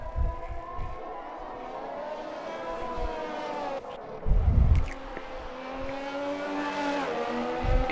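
A Ferrari race car on a push lap in a racing video game league at the Dutch Grand Prix, engine droning steadily with pitch rising and falling through gear changes, plus brief thuds and bumps.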